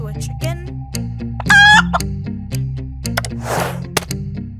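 Cartoon-style chicken sounds from a Thomas and Friends episode: a few clucks and a short crowing squawk over a steady musical background, with a breathy burst near the end.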